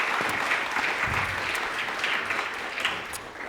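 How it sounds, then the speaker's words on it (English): Steady audience applause at a startup pitch launch event, dense and continuous clapping from a room full of people for the whole stretch, without speech. "let's give a warm round of applause then to Charlotte."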